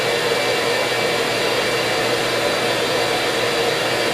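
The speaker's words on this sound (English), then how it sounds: "We're going to vacuum them up" A vacuum removes a colony of bees from inside a wall during a hive removal, making a loud, steady whooshing motor roar that holds unbroken for the whole stretch with no voices.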